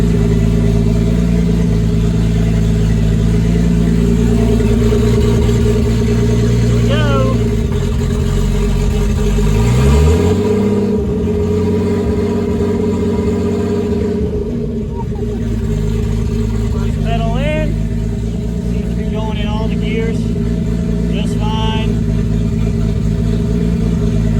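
A car engine, a 2JZ-GTE in a Chrysler Conquest with a T56 gearbox, rumbles steadily throughout, rising in pitch as it revs around the middle before settling back to idle, with someone talking over it.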